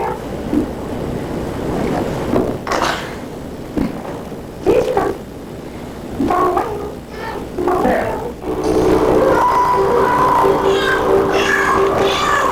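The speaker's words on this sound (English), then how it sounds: "the cats seem to meow whenever they want to" Several cats meow in turn, some drawn-out and some short, over a steady rushing background noise.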